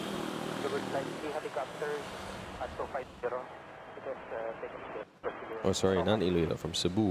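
An airliner lands at Manila Airport, a steady broad engine roar present throughout under close conversation from people talking nearby.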